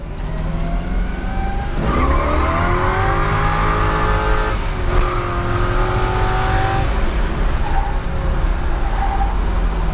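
A 1969 COPO Camaro replica with a 427 engine accelerates hard, its loud engine note climbing steadily as the tires squeal and skid, then easing slightly near the end.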